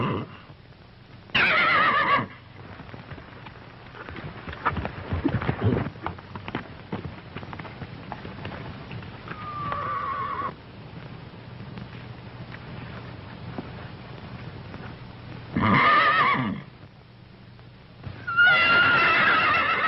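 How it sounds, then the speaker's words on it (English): A horse gives several loud, close whinnies in separate bursts spread out over time, with a soft patter like rain and faint clip-clop of hooves filling the gaps between calls. "Something's the matter with that horse."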